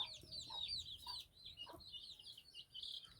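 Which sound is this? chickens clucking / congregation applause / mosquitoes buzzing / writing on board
chickens clucking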